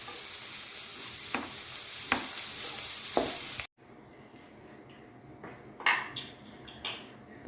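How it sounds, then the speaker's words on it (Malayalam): Broken wheat upma with coconut being stirred in a pan: soft frying sizzle with repeated scraping strokes of a spoon against the pan, a brief cut, then more scrapes and clinks, close and fairly quiet. "നല്ലപോലെ ഒന്ന് മിക്സ് ചെയ്തെടുക്കാം"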